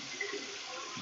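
Tap water runs steadily into a sink while hands are rinsed, a soft continuous splashing hiss with no talk over it.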